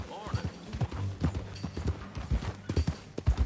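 Horse hooves clip-clop at a steady walking rhythm on a ranch, fairly close, mixed with low rumbling and people talking over them throughout.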